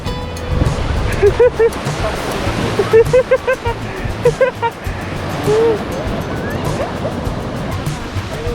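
Ocean surf rolling in at Cabongaoan Beach in Pangasinan, a steady broadband wash of waves with surges, under excited voices and shouts from people nearby.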